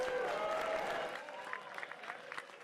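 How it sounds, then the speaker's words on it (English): A crowd of poker players applauds at a World Series of Poker Main Event money bubble, steady clapping mixed with cheering voices that gradually thins into scattered claps. "All right, round of applause"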